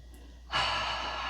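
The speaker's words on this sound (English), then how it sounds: "2 more deep breaths" A single deep breath during a relaxing yoga routine: a quiet pause, then a sudden, steady, airy inhale or exhale that holds for nearly a second, close and alone.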